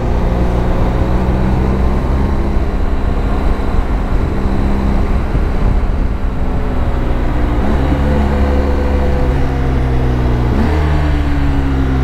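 A motorcycle on a ride, engine droning steadily and loudly throughout with wind rush, the pitch shifting as the rider works the throttle and changes gear near the end.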